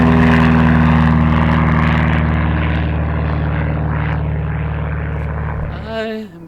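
A propeller aircraft at a small town airport drones loudly and steadily, its engine tone sustained and slowly easing before the sound cuts off abruptly near the end.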